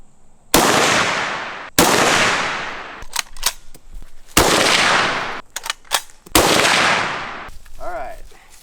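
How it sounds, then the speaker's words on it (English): Semi-automatic gun fired outdoors, four loud sharp shots with ringing decay spaced about a second or more apart, with brief talk in between. "It's semi-automatic."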